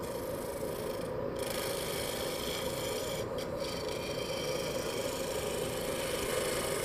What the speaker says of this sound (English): It's super punky, so I'm gonna turn on the dust collector.